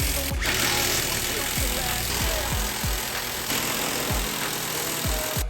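Power tool driving bolts to tighten down a swing-up vise stand on a workbench, a steady loud whirring with repeated falling pitch sweeps as each fastener seats, under a constant mechanical hum.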